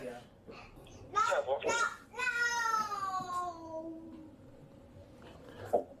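Kittens meow in a filthy house, with a drawn-out falling cry standing out among other high little calls and child-like voices nearby.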